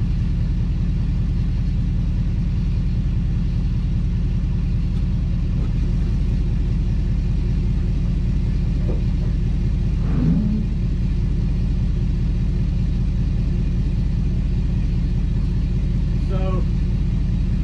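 A Ford F250/F350 pickup truck's engine idles in a constant low rumble, close and steady throughout, with a faint brief click partway and a voice murmuring once in the background.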